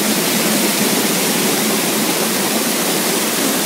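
Waterfall at the Bridgeton Mill dam, a steady, loud broadband roar of falling water filling the whole stretch with no let-up and no voices.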